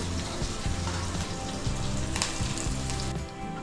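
Green chilies, coriander and curry leaves sautéing in hot oil for a dal tempering give a steady, close sizzle and crackle with faint spattering throughout, no voices.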